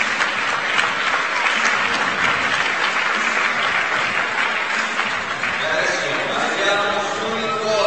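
Steady, loud applause from a large crowd at a climbing competition award ceremony fills the whole stretch, dense clapping without pause.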